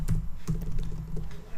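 Quick, soft keystrokes on a computer keyboard tap along in an irregular stream, close and alone over a low background rumble.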